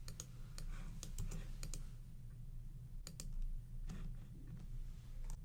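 Quick, light computer mouse clicks, several in short bursts with pauses between, close and crisp over a quiet low hum.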